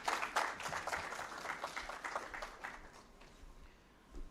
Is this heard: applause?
yes